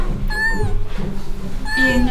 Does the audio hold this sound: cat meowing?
yes